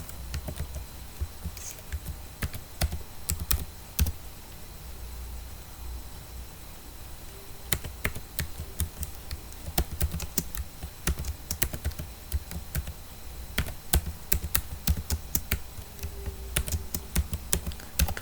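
A computer keyboard being typed on in bursts, with clusters of close, crisp key taps separated by short pauses over a quiet room background.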